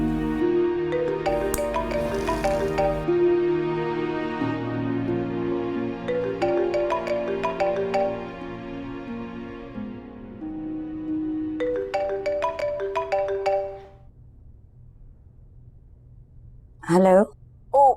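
An incoming-call phone ringtone plays a repeating melodic pattern for several seconds before cutting off, with a brief voice near the end.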